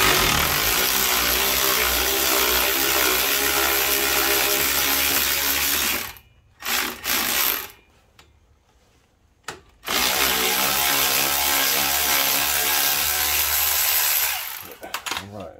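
A Milwaukee power tool loosening a brake caliper bolt on a 2007 Chrysler Sebring, loud steady whirring bursts near the mic, broken by short pauses and a quiet gap before running again.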